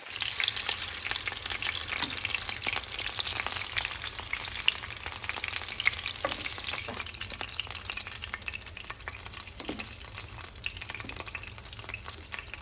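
Beef short ribs sear in a pan for pho, giving a continuous, dense sizzle with scattered pops and faint stirring clatter, steady and close with no voices.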